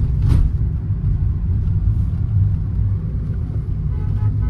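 Cars rolling past on a road, a steady low rumble of traffic close by with a brief louder swell early on, no talking over it.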